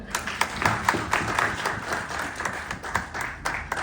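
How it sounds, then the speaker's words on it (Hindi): Applause from an audience at a Bitcoin community meeting in Lucknow, a steady patter of many hands clapping with scattered louder claps, moderately loud and continuous. "एक बार तालियां हो जाए।"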